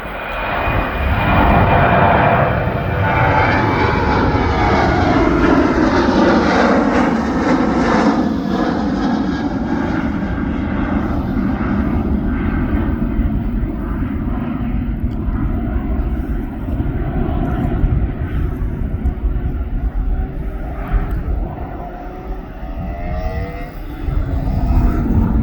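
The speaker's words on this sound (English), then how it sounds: "This aircraft's now going down to Kos" An airliner takes off at East Midlands Airport, its loud, sustained engine roar and rumble filling the air near the runway before slowly thinning as it climbs away.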